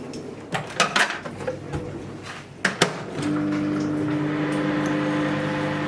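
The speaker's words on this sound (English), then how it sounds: "I'm going to microwave that potato." Microwave oven heating a potato in a kitchen: a few clattering knocks and clicks, then a steady close electric hum that runs on without talk.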